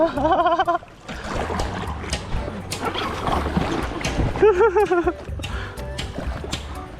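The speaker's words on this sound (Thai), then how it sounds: "อันนี้มาพายซับบอร์ดกันยืนพายก่อน" Stand-up paddle boarding on the flowing Ping River in Mae Taeng, Chiang Mai, with light water splashing and paddle strokes close by, mixed under excited voices and shouts throughout.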